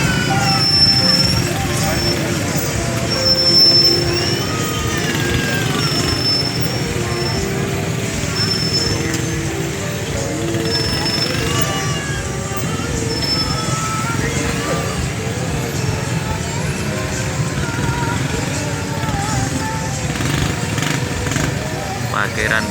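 Motorcycle engines hum and idle in congested evening traffic at the Kebumen town square, a steady drone of many bikes mixed with crowd chatter and occasional horn-like tones throughout.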